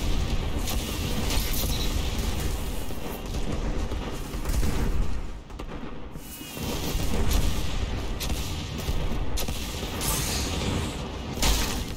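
Rocket launcher explosions rumble in a Destiny 2 Scorched 6v6 match: a dense, steady barrage of heavy booms and blasts, loud and close, with a brief lull midway before the pounding picks up again.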